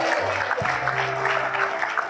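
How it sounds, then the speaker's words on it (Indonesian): An audience on the dating show Take Me Out Indonesia claps in a sustained, even patter of applause. A low musical drone plays underneath throughout. "Boleh kita berikan tepuk tangan."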